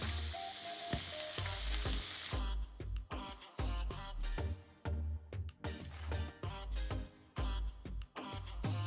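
Garlic and ginger sizzle loudly in a hot pan, with a crackling fry broken up by repeated bursts of stirring and scraping. No one speaks.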